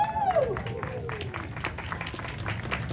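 At a Christmas show at Parc Asterix, an audience applauds with a steady spread of clapping and a few cheers, while a voice speaks briefly at the start.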